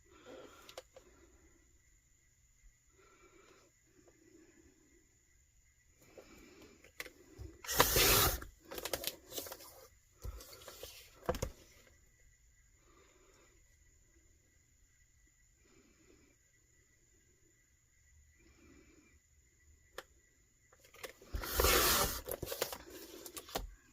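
Vinyl sheet being cut into triangles for an epoxy tumbler wrap, heard as two loud bursts of scissor-like cutting and crinkling separated by quieter handling rustles, with no talk.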